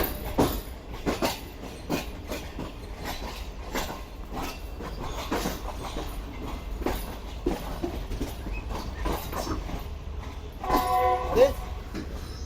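Pak Business Express easing out of Lahore Junction, its wheels clicking steadily over track joints amid a continuous low rumble, with a brief squeal near the end and a voice talking over the noise.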